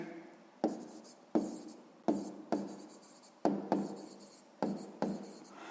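A pen writes out a sixth-grade math answer on paper, producing a series of about eight soft, close scratchy strokes, each starting with a sharp onset and trailing off, with no talking.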